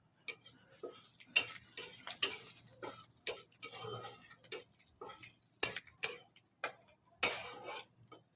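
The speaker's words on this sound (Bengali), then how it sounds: "জিরেটা দেখো ভাজা ভাজা হয়ে গেছে" Whole cumin seeds crackle faintly in a little leftover oil in a wok, with a soft sizzle broken by sharp clinks and scrapes of a spatula stirring against the pan.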